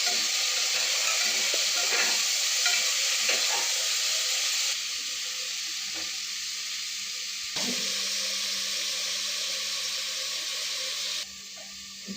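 Tomato frying in a pan on a home stove, a steady close hiss and sizzle with faint clinks and scraping, holding even throughout with small drops in level.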